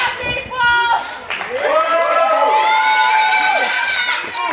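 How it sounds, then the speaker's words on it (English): A wrestling crowd at an arena show in Sevierville, Tennessee, cheering and shouting loudly under an excited commentator's voice, with screams rising and falling throughout. "This crowd here in Sevierville, Tennessee, loving what they're seeing tonight"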